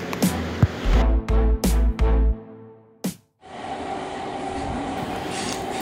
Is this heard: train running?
yes